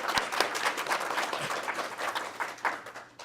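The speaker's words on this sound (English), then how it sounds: "How about we give them a big round of applause?" Moderate applause from a seminar audience on exporting to Taiwan, a brief patter of clapping hands at medium distance with some sharper individual claps standing out, fading slightly at the end.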